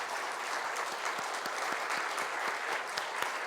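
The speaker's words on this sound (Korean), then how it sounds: "박수 한번 했으면 좋겠습니다" A church congregation claps at a Sunday afternoon worship service in Namyangju, a dense, steady wash of applause that holds evenly through the whole stretch with no voices over it.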